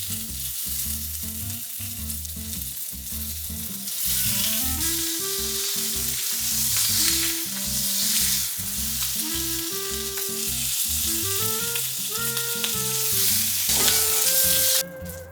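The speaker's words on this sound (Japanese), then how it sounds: "フライパンを熱してチャーシューの表面を焼き香ばしい焼き目をつけていく。" Wild boar chashu pork sears in a hot frying pan over high heat, a loud continuous sizzle with occasional stirring scrapes running throughout, under melodic background music.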